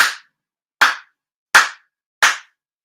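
Four sincere ritual claps at a monthly memorial ceremony, evenly spaced, sharp and close, each ringing out alone in silence.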